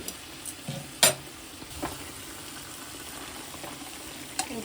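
Chicken for a desi-style curry sautéed in a pan, a low steady sizzle with occasional stirring scrapes and a sharp utensil clink, heard close with no talk.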